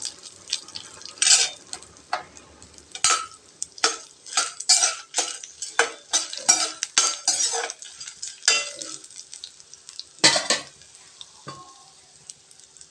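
Cashews frying in hot oil for coconut rice, with a steady sizzle and repeated scraping, clinking stirs of a metal spoon against the pan, the strokes irregular and close.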